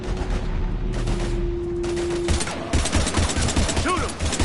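Heavy gunfire in Mass Effect 3, with dense bursts of shots and crackling impacts under a sustained tone, building toward loud rapid fire in the later half while voices speak over it.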